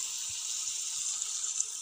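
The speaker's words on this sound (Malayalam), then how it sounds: "1 കപ്പ് വെള്ളം ഒഴിച്ച് കൊടുക്കും." Water poured into chicken biryani gravy, a thin steady hissing trickle, close and even throughout.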